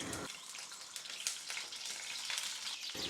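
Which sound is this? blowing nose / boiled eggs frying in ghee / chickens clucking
boiled eggs frying in ghee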